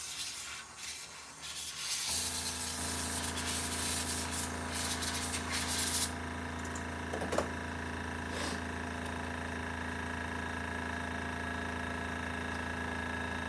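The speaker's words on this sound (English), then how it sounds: "I'm gonna clean up any dust." Dust being wiped up with a steady rubbing for about six seconds before fitting a new gasket, followed by a quieter background hum.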